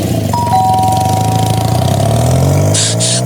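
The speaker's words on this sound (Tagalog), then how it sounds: "Mag-doorbell ka na." A ding-dong doorbell chime rings over a loud idling engine, with a brief hissy burst near the end.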